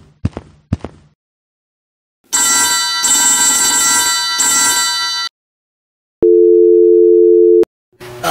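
A phone rings and buzzes in a LEGO-built take on the Five Nights at Freddy's Security Breach video game, in loud sustained bursts with a steady tone afterward and short clicks at the start, and no talk.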